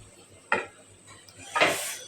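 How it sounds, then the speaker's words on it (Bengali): Cauliflower florets go into a pan of cooking fish curry with a short metallic clack, followed by a louder, longer rush of sizzling and clatter. The two bursts sit against a quiet kitchen background. "এখন দিয়ে দিব ফুলকপিটা।"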